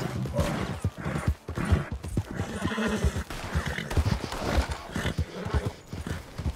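A horse neighs and whinnies among galloping hoofbeats in Red Dead Redemption 2, with rapid clip-clop and rough, busy game noise throughout, the whinny standing out loud and close.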